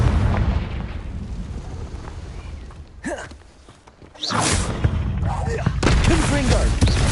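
Confringo fire-spell blasts in Hogwarts Legacy, heavy booming bursts at the start and again from about four seconds on, loud and dense, with a brief quieter dip between them.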